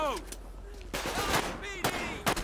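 Gunfire from a police patrol in GTA V with the LSPDFR mod, several sharp shots in quick irregular bursts with short ringing tails, loud and close, with no talk over them.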